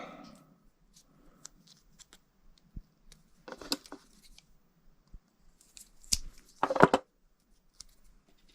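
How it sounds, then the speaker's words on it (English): Insulating tape being pulled off its roll during battery management system wiring, heard as quiet sporadic clicks and a short sticky ripping burst near the end, close and faint. "There is the edge of my tape. I'm just going to pull some of that out."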